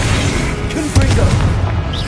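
Blasting spell explosions in the Hogwarts video game, a dense continuous roar of booms and bursts with low rumble throughout, loud and close, with a stronger blast near the middle.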